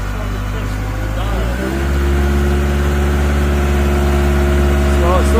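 A 2021 Caterpillar 910 wheel loader's engine runs near full throttle in a slow grading gear, a loud, steady drone that steps up and holds after a couple of seconds, with voices talking under it.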